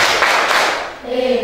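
Classroom children clap together in a quick burst of rhythmic cheer claps close by, then the clapping fades and a voice begins speaking.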